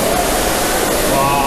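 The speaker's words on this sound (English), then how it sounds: "And then here's a waterfall." Broad, steady rush of falling water from a waterfall inside a TeamLab digital art installation, loud and continuous with no breaks.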